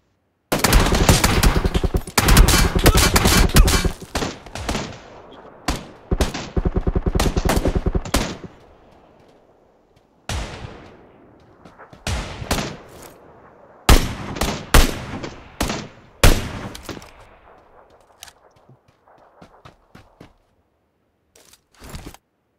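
Gunfire in the video game PUBG Lite: a long rapid automatic burst up front, then separated single shots and short volleys, loud and close, trailing into quieter scattered shots, with no voices.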